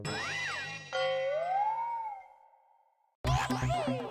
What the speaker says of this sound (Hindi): ये कॉल वेटिंग पे पोपटलाल का फोन है भाई